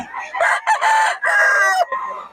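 A bull stag rooster crows loudly and close by at a cockfighting-breed farm, one long broken crow with several rising and falling segments lasting about two seconds.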